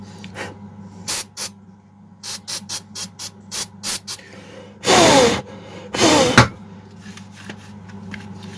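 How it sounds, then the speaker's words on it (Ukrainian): An aerosol spray can hisses in a quick run of short bursts, followed by two longer sustained sprays, close and loud, used in a repair of a punctured fuel tank on a Kitprom 2500 petrol chainsaw. "Тепер беремо спрей."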